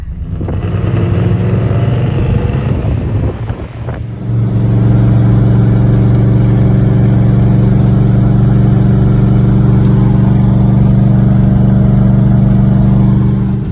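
A Chevrolet Camaro with a newly installed engine idles steadily as it warms up, a loud continuous low rumble close by, with a brief rev and dip at the start before settling into an even idle.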